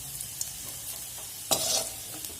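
Green chillies sauté in oil, a soft steady sizzle close by with a brief louder burst of spitting and a faint stir partway through.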